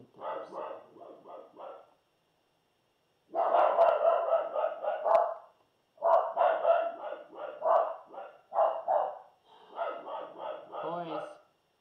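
Two hunting dogs bark loudly and close by in repeated bursts of rapid, overlapping woofs, separated by short pauses.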